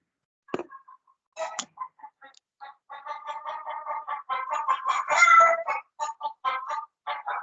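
Chickens cluck in a busy series of short, close calls that start sparse and grow denser and louder, then fall into a choppy rhythm against silence.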